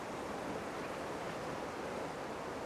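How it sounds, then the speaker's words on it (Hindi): Sea waves wash continuously onto a shore, a steady, even hiss of surf at moderate loudness with no voices over it. "ये लहरों की आवाजें"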